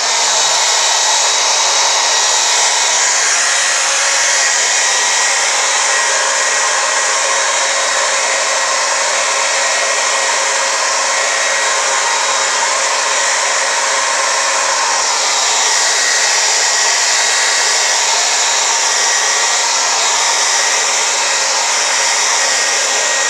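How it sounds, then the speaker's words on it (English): A hair dryer blows steadily on a bob haircut styled with a round brush, its loud, continuous whirring rush lasting throughout with no talking. "And I'm just going to blow dry it on camera."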